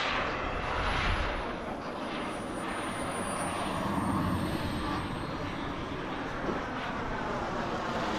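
A jet airplane, an L-39 Albatross at an air show jet rally, rumbles steadily in the distance as it comes in to land, a broad continuous roar with a faint high whine.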